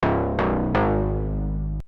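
Brass stab synth patch built in Serum, its stereo width narrowed toward mono, plays three loud sustained chord stabs with sharp attacks and slow decays, alone and without talk.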